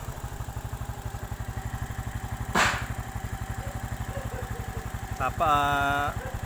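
A Suzuki Shogun 125 carbureted motorcycle engine idles with a steady, rapid putter throughout, joined by one short clattering burst and a brief whine near the end.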